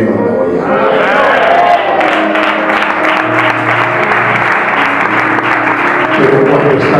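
A church congregation breaks into sustained applause, a dense wash of clapping that stays loud and even throughout with no voices over it.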